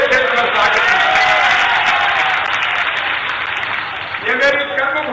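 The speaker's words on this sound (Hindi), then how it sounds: "दोनों हाथों को ढक ताली बजा के सिंधिया जी का मेरे क्षेत्र में स्वागत है।" A rally crowd in Gairatganj, Raisen, claps to welcome Scindia, a dense, steady wash of applause with scattered cheers that carries for about five seconds, briefly dipping near the end before swelling again.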